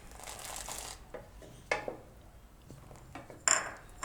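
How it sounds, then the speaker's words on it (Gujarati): Chopped cashews and almonds tumble into hot milk in a pot for chiku basundi, giving a few short clattering bursts of nuts and utensil against metal, moderately loud with quieter gaps between. "એમાં આપણે નાખી દેવું ડ્રાયફ્રૂટ"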